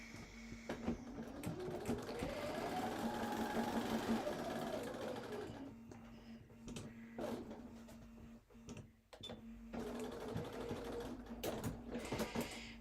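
A sewing machine stitches a seam on a holiday placemat, a continuous close mechanical hum and whir that rises in speed, pauses, then runs again in shorter bursts with light clicks.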